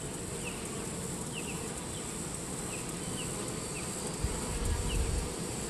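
Honeybees buzz steadily around an open hive during a frame-by-frame inspection, a dense continuous hum with occasional individual bees droning close past, and a soft handling bump near the end.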